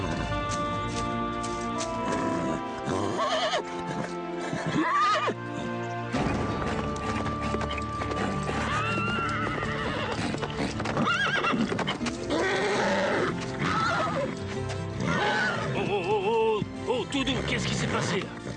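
A galloping horse neighs and its hooves pound inside a loud, dense film soundtrack, with voices and other sounds mixed in throughout.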